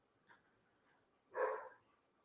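A pair of dogs barking indoors, heard as one short, fairly loud burst of barking against a quiet room, with no talking.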